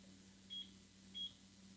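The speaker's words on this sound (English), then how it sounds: "So here's the air fryer. Set to put on for 375." Two short electronic beeps from an air fryer being set to 375 degrees, evenly spaced and fairly faint over a steady low hum in a home kitchen.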